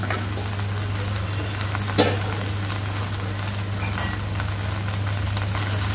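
Hog plums frying with spices in a pan for pickle, a steady dense sizzle close up with a low constant hum beneath and one brief clatter partway through.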